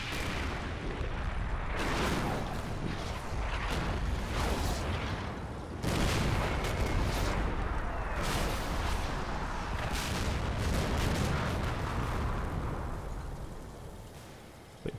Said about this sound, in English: there is a few more German rounds coming in